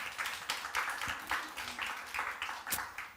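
A church congregation claps rhythmically during a Korean sermon, the beats coming in regular, fairly soft pulses at moderate distance.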